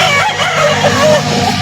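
Chickens and roosters at a livestock market in Laguna, crowing and clucking loudly up close in a busy, noisy setting with traffic and people in the background.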